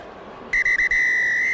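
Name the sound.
referee's long full-time whistle blast at a rugby match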